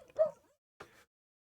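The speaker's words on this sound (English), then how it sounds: "That's my Jack Russell Henry barking in the background at something, probably an ant walking through a field." A Jack Russell terrier barks in the background, two short yips a moment apart, faint and distant with no talk over them.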